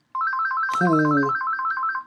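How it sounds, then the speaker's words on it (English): A telephone ring tone sounds as a steady repeating electronic trill throughout, briefly overlapped by a short voice. "that's the phone."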